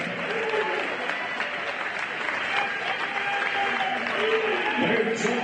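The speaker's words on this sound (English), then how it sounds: "how about a round of applause for our senior boys basketball players" Crowd applause fills a high school gym for the senior boys basketball players at a Walla Walla versus Pasco game, steady broadband clapping and cheering throughout with voices mixed in.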